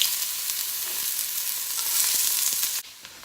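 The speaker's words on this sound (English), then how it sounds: "we're gonna put some fat in here. I like to use lard. And just throw your onions in there." Onions frying in lard in a warm pan, a loud bright sizzle that runs steadily then cuts off abruptly near the end, leaving a faint quiet hiss.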